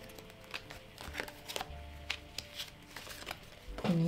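Oracle cards shuffled before a card reading: a close, soft run of papery riffles and slides, several brief bursts over a few seconds, with a faint tonal hum underneath and no one talking.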